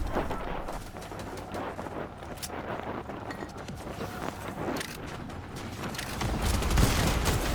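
Chaotic gunfire in the video game Warzone Rebirth on the Rebirth Island map, with dense overlapping shots and bursts crackling continuously at mid distance, swelling louder toward the end.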